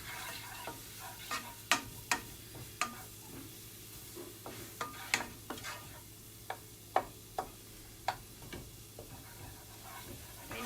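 Garlic being stirred into cauliflower couscous in a pan: quiet, irregular taps and scrapes of a utensil over a faint low sizzle, each stroke short and close.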